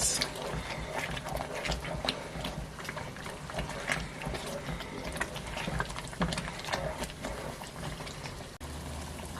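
Spices, including thyme and pounded nutmeg seed, are stirred into a pot of Nigerian fish stew, giving a steady close bubbling, scraping texture with scattered small clicks and no talking.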